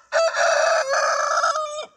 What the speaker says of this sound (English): let's see the chicken. There's the rooster.